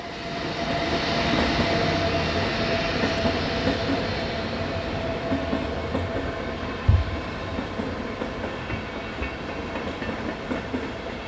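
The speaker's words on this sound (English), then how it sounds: "number 101144, wearing this all-over advertising livery, arrives with a delayed 1554 Frankfurt to Saarbrücken" DB class 101 electric locomotive in advertising livery arriving with a Frankfurt to Saarbrücken train, a broad sustained rumble and roar of the passing train with a single sharp thump partway through.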